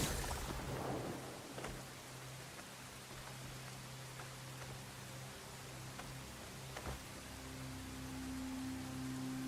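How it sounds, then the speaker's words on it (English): Rain falls in the open-world game Crimson Desert, a faint, steady wash of rain with a low rumble of thunder near the start and a quiet musical hum beneath. "Hey, it's raining."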